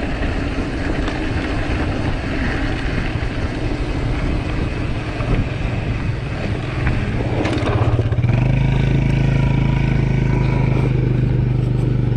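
A quad bike's engine rumbles close by during a mountain bike ride, a loud, steady drone that deepens and grows heavier toward the end as the quad brakes.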